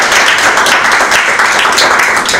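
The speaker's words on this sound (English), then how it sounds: "A bigger round of applause," An audience at the launch event for the State of World Population Report 2023 applauds, a loud, dense, steady clatter of many hands clapping with no voices.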